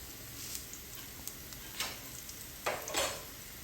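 Onions frying in a pan for a homestyle egg curry, a quiet, steady sizzle with scattered stirring scrapes and a couple of stronger clinks near the end.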